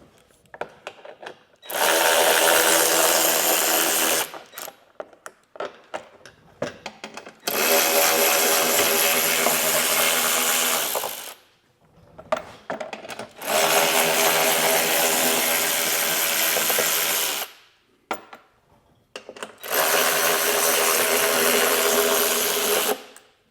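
Power tool whirring in three long sustained bursts, with short pauses between, as 10mm bolts are backed out of a plastic bumper support on a Corvette C8; close and loud.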